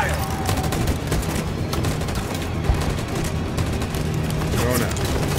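Troops firing guns in the Detroit: Become Human video game make a dense, sustained volley of loud gunfire that runs the whole way through, with a voice heard over the shooting.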